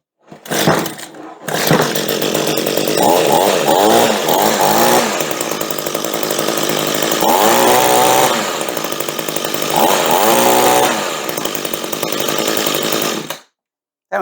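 An Echo two-stroke hedge trimmer engine starts after a brief pull and runs loudly and steadily close by for over ten seconds, with its revs rising and falling in surges before it cuts off abruptly.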